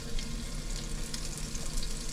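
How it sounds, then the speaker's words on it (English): Garlic sautéing in extra virgin olive oil gives a steady, close hiss of frying that runs unbroken and fairly even, with faint crackles scattered through it. "I'm going to get my garlic. And we're going to get that sauteing."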